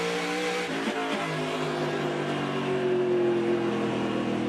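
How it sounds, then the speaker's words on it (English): Race car spinning off a corner at Lucas Oil Raceway during an SRX stock car race, with a continuous loud engine roar, a brief squeal early on and steady high-pitched droning throughout. "Listen to the full spin off the corner from Marco."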